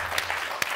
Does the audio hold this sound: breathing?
no